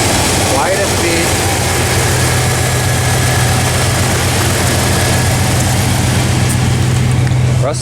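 Twin-turbo 5.9 Magnum engine in a rusty high-mileage pickup idling, a loud steady low rumble with a constant hum running the whole time, a voice speaking briefly over it.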